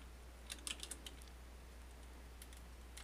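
Code typed on a computer keyboard, a quick cluster of soft, close key clicks early on and a couple more near the end, over a low steady hum in an otherwise quiet room.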